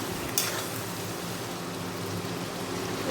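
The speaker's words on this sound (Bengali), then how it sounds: "মশলাটা জলে গুলে নিয়ে কড়ার মধ্যে দিয়ে কষিয়ে নেব।" Spice paste mixed with water sizzles and fries in a kadai, a steady, close hissing crackle with a brief sharper burst near the start and no voices.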